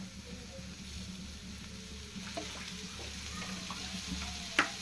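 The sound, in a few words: bitter gourd frying in oil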